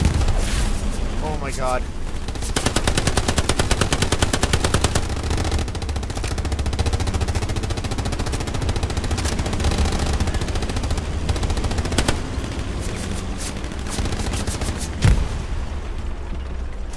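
Rapid gunfire in a video game, long bursts of automatic fire with scattered heavier shots, loud and continuous, under excited voices of players talking over it.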